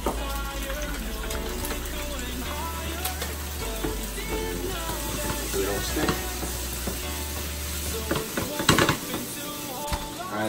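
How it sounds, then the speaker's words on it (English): Steady close-up sizzling of shrimp searing in hot olive oil, crackling continuously with occasional louder pops and some background clatter. "start with some olive oil on it. Just so we can sear the shrimp perfectly."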